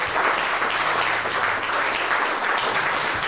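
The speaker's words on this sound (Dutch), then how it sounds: "applaus voor Corrie Kinnaman." Applause for Corrie Kinnaman at a Dutch farewell gathering for Riet van der Waal: steady, dense clapping from a room of guests that holds at an even level for a few seconds, with no voices over it.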